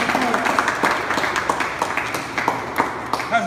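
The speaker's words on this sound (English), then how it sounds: "Let's give him a round of applause." Audience applause at a press conference, a steady wash of many hands clapping close by with a few sharper individual claps standing out, and voices murmuring faintly underneath.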